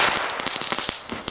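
Belgian firecrackers burst in a rapid, irregular string of sharp, loud cracks and pops, close by, crowding together across a little over a second with no talking.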